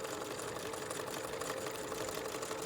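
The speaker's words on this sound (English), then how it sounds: "So I'm sewing at 1/2 inch." A sewing machine stitching a bustier seam at half an inch, a steady fast mechanical whir running throughout, fairly quiet and without voices.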